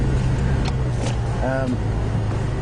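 A safari game-drive vehicle drives off-road, its engine a steady low rumble under faint voices.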